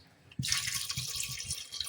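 Water pours suddenly into a pot of soaking chickpeas for chole, a close, steady splashing stream that starts abruptly and runs on alone.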